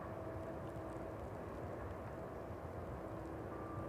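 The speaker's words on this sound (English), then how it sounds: "And the Ryanair should just be touching down." A Ryanair Boeing 737 MAX arriving from Tenerife touches down on the East Midlands Airport runway in the evening, a steady broadband jet roar with a faint whine, held at an even level throughout without voices.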